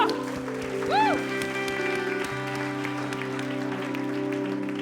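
An audience claps together at a worship music performance, a steady wash of applause that sits under sustained musical chords throughout, with no speech.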